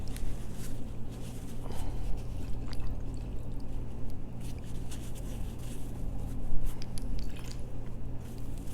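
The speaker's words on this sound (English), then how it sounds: "Swish the brush a little bit." Paintbrush swished in water to clean it between oil colours, a soft wet sloshing and squishing with small splashes and drips, close and continuous, no voices.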